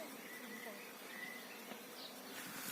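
A swarm of honeybees hangs in a tree on a cloudy day, giving a steady soft outdoor buzz that carries on under faint ambient noise and distant bird calls.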